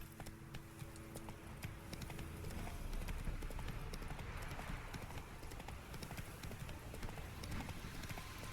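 Roach, the horse in The Witcher 3: Wild Hunt, gallops with a steady, fairly loud clip-clop of hooves running through the whole stretch over a busy game soundscape.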